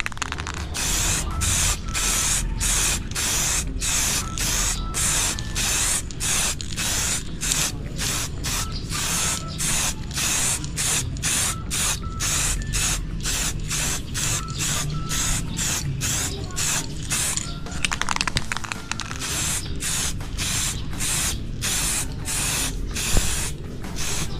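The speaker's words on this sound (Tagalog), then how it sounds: "Tapos ito naman yung sa kapartner niya mga sir, spray na rin natin." Bosny aerosol spray paint is applied to a motorcycle outer tube shock in repeated short bursts, a steady rhythm of close, loud hissing sprays with brief pauses between them, with no talk.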